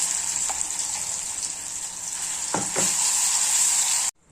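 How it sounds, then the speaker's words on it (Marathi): Cumin sizzling in hot oil for a chutney tadka, a bright, steady hiss with a few small crackles and bubbling pops, close and loud, cutting off abruptly at the end. "जिरं झालेलं आहे, गॅस बंद केलेला आणि छान असं चटणीला तडका देऊन देऊया।"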